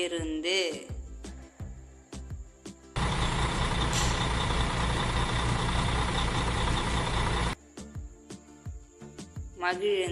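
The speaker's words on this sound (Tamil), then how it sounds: "பள்ளி பேருந்து" A school bus engine roars loudly and steadily for about four seconds in the middle, with quieter clicks and a brief voice before and after.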